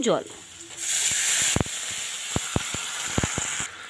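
Water poured into a hot pan of sabudana khichuri with potatoes and turmeric bursts into a loud, steady hiss and sizzle lasting a few seconds, broken by several sharp spoon clicks against the pan.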